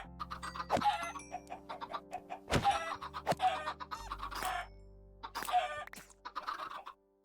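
Minecraft chickens clucking inside a farm in the video game, several short clucks and squawks scattered over a low droning background hum, fairly close and clear.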